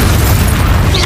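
Confringo fire spell blast in the video game Hogwarts Legacy, a short, loud, dense burst of explosive rumble lasting about a second.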